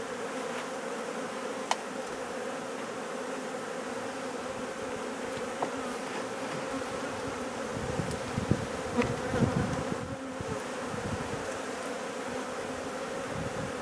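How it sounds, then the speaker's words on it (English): Honey bees buzz around a hive feeder, a continuous close droning hum that thickens midway as more insects move near, with occasional sharper passes and small knocks. "Rescue the bees out of this"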